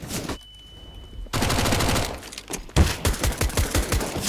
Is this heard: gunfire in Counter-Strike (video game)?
yes